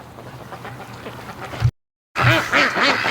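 Ducks quack back in a lively flock, loud close calls in repeated bursts, a brief silent gap, then a denser run of harmonic quacks.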